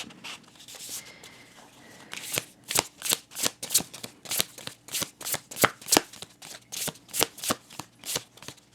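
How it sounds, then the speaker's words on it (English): A tarot deck, a Woodland Wardens set, is shuffled up close, giving a steady run of crisp, rhythmic card-slapping bursts that quicken and stay loud with no talk over them. "Hold on, let's do a little shuffling here."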